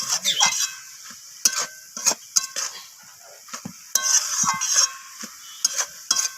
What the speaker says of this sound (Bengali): তো আদাটা দিয়ে আমি আবারও নাড়াচাড়া করে নিচ্ছি